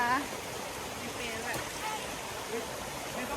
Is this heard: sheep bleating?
no